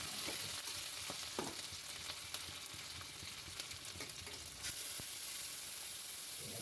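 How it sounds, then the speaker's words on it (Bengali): Bay leaf, green chili, ginger and asafoetida frying in oil in a pan, a continuous close sizzle with occasional stirring scrapes and no voices. "তেজপাতা, কাঁচা লঙ্কা, আদা এই সব দিয়ে ভালোভাবে ভেজে নেব"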